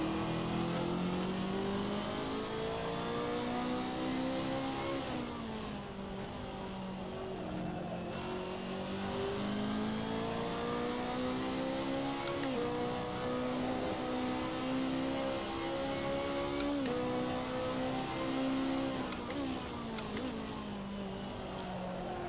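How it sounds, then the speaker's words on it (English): A BMW race car in Assetto Corsa at Road America holds a loud, sustained engine note near the top of its revs, pitch sagging and climbing again with a buzzing, limiter-like edge throughout. "hit the rev limiter"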